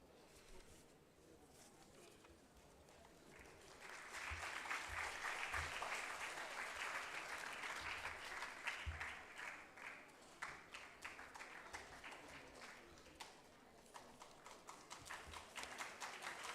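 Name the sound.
audience applause at a ceremony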